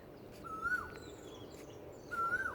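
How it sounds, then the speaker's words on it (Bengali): An Asian koel calls twice from among trees on a quiet morning, each a clear rising whistled note, moderately distant over soft outdoor background. "এই জায়গায় একটা কোকিলের ডাক শুনলাম এই গাছগুলির ভিতরে"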